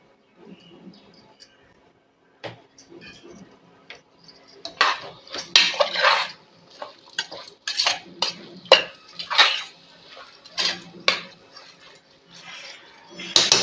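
Mutton chukka being stirred and sautéed with salt in a pan, close by: a run of sharp metallic scrapes and clinks of a spoon against the pan, loud and irregular, with quieter faint sizzling underneath and no voice.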